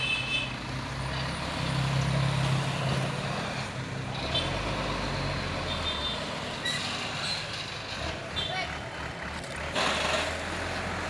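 Hino trailer truck turning around on a hill, its heavy diesel engine rumbling steadily with reversing beeps and a hiss of air brakes near the end; no talk.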